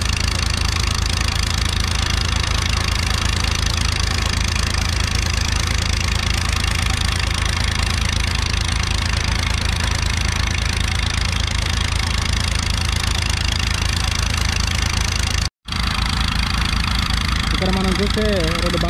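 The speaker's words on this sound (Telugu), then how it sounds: "ఈ భారీ ఇంజన్ల చేతనే వాటర్ అనేది తోడిపోయడం జరుగుతూ ఉంది" Two heavy engines pumping water at a dewatering site for the Amaravati Iconic Towers run in a loud, steady rumble throughout, with a brief cut near the end and a voice speaking over the noise.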